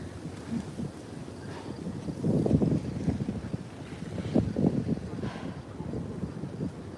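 Gusty wind buffets the microphone in uneven low rumbling surges, with faint water-like background wash and no voices.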